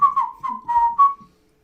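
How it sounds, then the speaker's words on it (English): A clear whistled tune of several short, bright notes, loud and close, with no talking. "Loud whistle."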